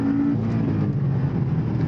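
A Porsche 718 Boxster S engine in sport mode runs loud and steady for about two seconds, a continuous close-up drone with a slight rise in pitch suggesting light revving and burbling from the exhaust system.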